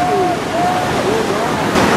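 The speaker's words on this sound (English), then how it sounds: "these waves start knocking you around a bit" Ocean waves surge around a surfer at a surf dog surf-a-thon, a continuous rushing wash close by, with faint voices in the background.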